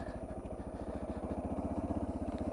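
Close-up Suzuki DR650 motorcycle engine running steadily, a rapid even single-cylinder thump with a slight mechanical clatter, fairly quiet and alone.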